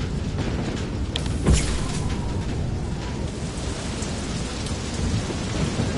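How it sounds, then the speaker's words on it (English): A freak storm in the Far: Lone Sails video game: heavy rain hisses steadily, with a sharp thunder crack partway through and a low rumble beneath, no voices. "This is a freak storm."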